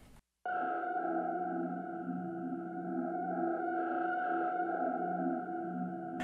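A sustained synth pad made in Serum holds a steady chord with slow, shifting movement, playing alone after a brief silent start and cutting off at the end.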